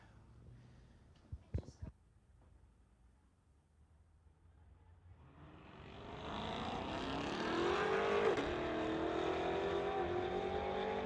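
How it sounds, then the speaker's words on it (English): Two Corvettes, one a 1999 model, launching off the line at a street-legal drag strip, engines roaring loud and rising steadily through the second half after a few sharp knocks and quiet idle. "we've got two Corvettes here pulled up to the line"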